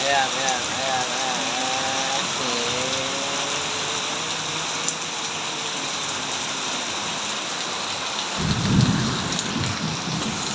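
Heavy, steady rain pours down during flooding, with low thunder rumbling in the background and a stronger rumble near the end, heard close and continuous as a person talks.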